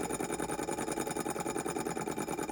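A small OKMO J06D mini four-column beam hot air Stirling engine runs alone at a steady pace, giving a close, even, rapid mechanical chuffing and ticking rhythm.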